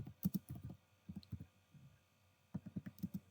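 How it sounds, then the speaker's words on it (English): Typing on a computer keyboard while entering an application name into a browser search box, with quick bursts of close, crisp key clicks separated by a short pause, heard alone. "here in the search box just type your application name"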